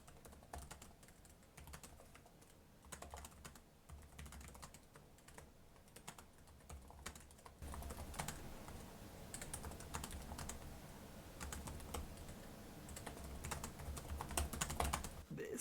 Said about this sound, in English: So it's an excellent typing experience.